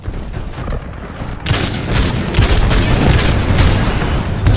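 An automatic pistol firing in a video game on a console, a dense, continuous rattle of shots that grows louder and stays steady, with no talk.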